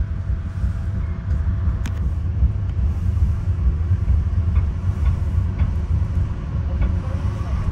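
A Metra commuter train running express from Chicago Union Station toward LaGrange, heard from inside as a steady, loud low rumble and rolling drone with occasional faint clicks and rattles, no talk.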